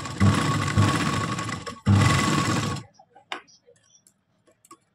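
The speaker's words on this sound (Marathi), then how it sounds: "साईडने शिलाई करून घ्यायची" For about three seconds a sewing machine runs loud and close, stitching the side seam of a blouse sleeve with a brief pause in the middle, then stops, leaving faint scattered clicks and handling noises.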